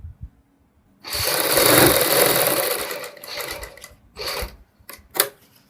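An electric sewing machine stitches a saree: a loud close whirring run of about two seconds, then several shorter bursts of stitching separated by pauses, with no voices.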